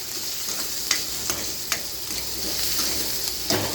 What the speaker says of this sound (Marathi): कांदा टाकून घ्या कांदा परता